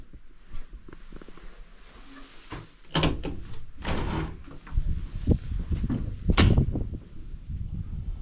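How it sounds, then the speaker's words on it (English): An old wooden door at a colonial fort opens with a series of knocks, thuds and creaky scraping, irregular and close, growing louder toward the end with no speech. "That was the original door that you could go out into."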